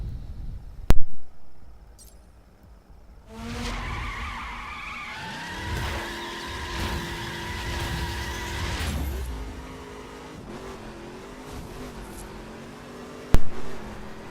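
A Ford GT racing a circuit in The Crew, the engine roaring and shifting through gears with tire squeals and skidding, loud and close, opening with sharp impacts and ending in another hit.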